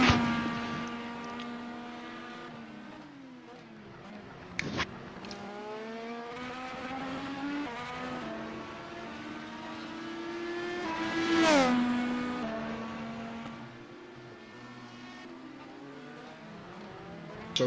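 Race car engine in a sim racing game lapping Circuit Gilles Villeneuve, a steady high whine rising and falling through gear changes, with braking downshifts and a sharp rev peak midway, clear and continuous without talking.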